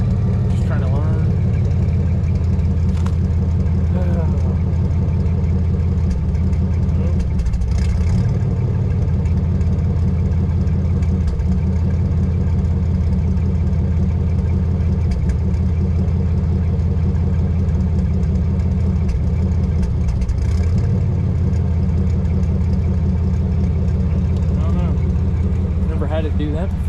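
A Dodge RT engine runs with a rough idle, misfiring on a cylinder or two after a new distributor was fitted. It makes a steady low rumble that rises briefly with a couple of revs, and people talk over it.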